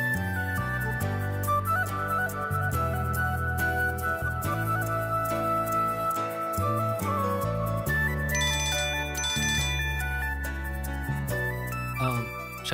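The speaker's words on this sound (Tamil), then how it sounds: "நான் உனக்கு கால் பண்றேன்" A phone ringtone plays throughout in a Tamil TV serial scene, a steady melodic ringing tone that stays loud and continuous under a music-like bed with no talk.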